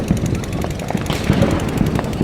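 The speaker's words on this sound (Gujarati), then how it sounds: "હજી ફટાકડા ફૂટે" Diwali firecrackers bursting at a celebration at Race Course, Rajkot: rapid crackling bursts in quick, irregular succession, dense and fairly loud throughout.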